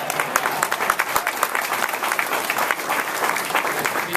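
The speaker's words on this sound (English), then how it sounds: "you're allowed to applaud the greatest city in America" An audience at an award ceremony bursts into dense, sustained applause, steady and loud from start to finish with no speech over it.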